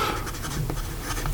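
A Diplomat Excellence A Plus fountain pen with a broad nib and black ebony wood scratches across paper in a brief, close run of soft strokes.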